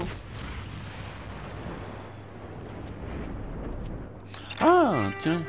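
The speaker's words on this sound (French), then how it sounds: "Ah, tiens, une explosion avec..." Explosion in the video game Just Cause 3: a rumbling, distant boom that swells and fades, followed by a short burst of someone talking near the end.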